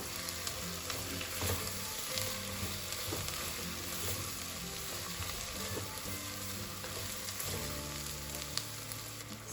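Shrimp and meat sautéing in a pan with garlic for Bahian quiabada, a steady close sizzle and crackle with occasional stirring scrapes, no voices.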